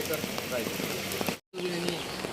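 Heavy continuous rain in the Mahad–Poladpur area, a steady loud hiss of drops on surfaces that cuts out briefly in the middle and then resumes.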